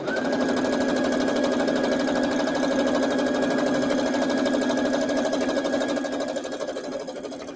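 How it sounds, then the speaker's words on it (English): Close, loud and steady, a sewing machine stitches a quilt top in one continuous fast run, easing off slightly near the end. "you sew it all the way to the end"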